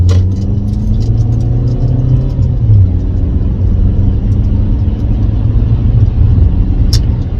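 A 2014 Buick Encore SUV accelerates, heard from inside the cabin as a loud steady engine drone and road rumble with a rising tone, with no talk over it.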